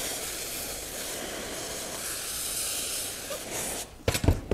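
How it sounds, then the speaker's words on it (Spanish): Steam hisses steadily from a setup steaming wood for bending into a walking stick, a constant airy rush with a few sharp knocks and clatters at the end. "para que el vapor penetre por ambos lados."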